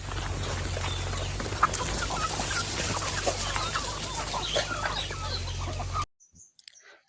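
Chickens clucking continuously as they are called, a busy close flock of overlapping clucks over a low steady hum, ending abruptly in near silence with a few faint sounds.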